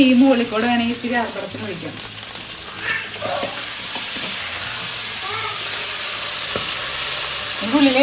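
Food fries in a pan in a home kitchen during rain, a continuous bright sizzle running the whole time while a person talks over the start.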